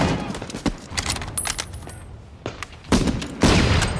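Gunfire from a WWII war film featuring bolt-action rifles: sharp separate shots spaced irregularly, with louder bursts near the end over a noisy battlefield background.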